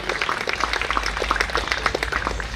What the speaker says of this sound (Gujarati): આપણે જોરદાર તાળીઓથી વધાવી લઈએ.